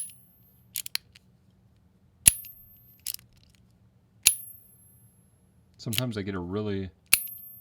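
A tuning fork struck on a Muyi Artillery fidget toy gives several sharp metallic pings with bright high overtones, some ringing briefly and others cut short, spaced a second or so apart, with a voice speaking partway through.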